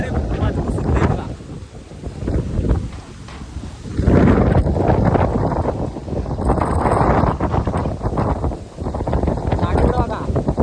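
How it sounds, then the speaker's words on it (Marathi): Strong wind blows by a lake with waves, buffeting the microphone in loud, uneven gusts for several seconds. "मजबूत वारा आहे, मजबूत वारा आहे, वारा वारा आहे."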